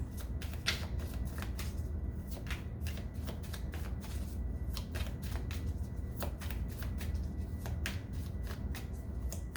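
Tarot cards being shuffled by hand, a steady run of crisp riffling flutters and soft slaps repeating close up with no talking over them.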